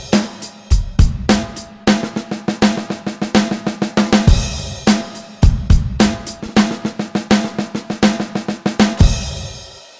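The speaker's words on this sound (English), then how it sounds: "So if we played that as a drum fill, it would sound something like this." A drum kit plays a one-bar fill of rapid strokes with accented notes standing out, repeated several times in a dense, punchy rhythm with cymbal wash, loud and close with no talking.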